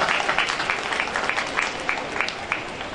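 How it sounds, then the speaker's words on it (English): Audience applause at a school annual sports meet, a steady run of many hands clapping, fairly loud and continuous throughout without talk. "They definitely deserve my applause."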